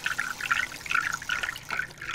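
Water flows in a river, rendered as a gurgling, trickling burble with irregular splashy pulses, fairly close and unaccompanied by voices.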